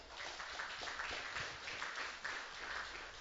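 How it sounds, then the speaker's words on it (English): An awards-night audience at a correctional facility applauds the room decoration crew, a steady, dense patter of clapping from a crowd that holds throughout without pause. "I would like you to give them a big round of applause."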